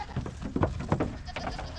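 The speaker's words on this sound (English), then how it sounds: "Man, that's a lot of goats" Goats in a big pasture bleat in a short burst of overlapping calls, several wavering cries close by, alongside a low murmur of outdoor background.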